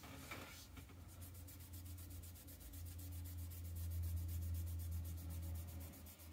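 Steady rubbing on the edges of a Harley Davidson fender bib, a continuous close scraping friction with a faint rhythmic pulse, fairly quiet and alone without talk.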